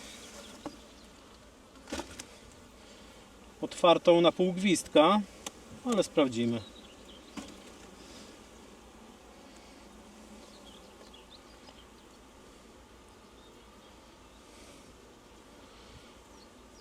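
Honey bees hum in a low, steady drone from an opened hive during inspection, while someone talks in short bursts over it.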